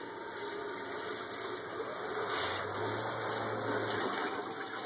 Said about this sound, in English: You can hear both pumps going.